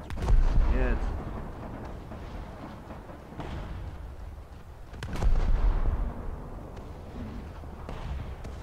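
Naval gunfire from a destroyer in War Thunder, two heavy booming shots a few seconds apart with rumbling low decay, fairly subdued in the mix, with someone talking over them.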